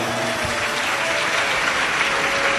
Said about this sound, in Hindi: एक बार बेटी के लिए जोरदार ताली बजाओ।